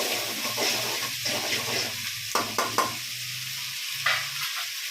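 Tomatoes are stirred into a sizzling pan of mushroom biryani masala, with a steady fry hiss and a few sharp scraping clinks of the spoon against the pan.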